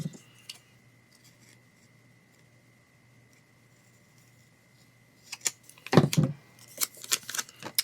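Scissors trim paper to fit a box. After a quiet stretch come a few crisp snips and rustles close by.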